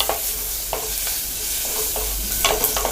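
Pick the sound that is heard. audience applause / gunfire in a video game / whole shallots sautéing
whole shallots sautéing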